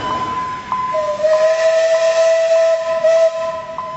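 Whistle of the restored Alishan No. 25 steam locomotive, now burning diesel, departing on the Beimen–Zhuqi tourist run: a loud, sustained steady whistle blast of about two seconds over a constant hissing rumble, with no talk.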